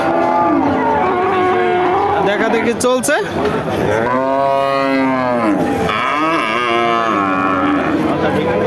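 A cow at a cattle market gives long, loud, close moos, one after another with deep drawn-out bellowing tones, while a person briefly talks nearby.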